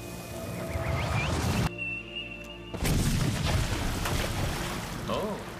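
An explosion in The Witcher 3: Wild Hunt – Blood and Wine. Rushing, watery game ambience cuts to a brief hush, then a loud, broad burst erupts and rumbles on to the end.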